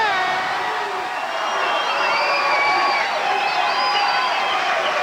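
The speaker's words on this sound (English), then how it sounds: "The cheering will take up the whole show." A large crowd celebrating the Chicago Bulls' 1991 championship cheers and whoops loudly, a continuous roar of voices with shrill whistles and shouts rising over it.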